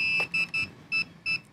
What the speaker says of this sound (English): Let that beep, boom.